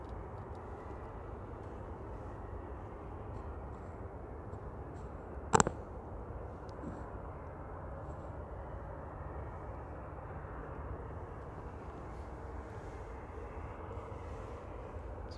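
An Airbus A380 airliner at pushback at Manchester Airport, a low, steady engine rumble and hum heard from a distance, faint and continuous, with one brief sharp click partway through.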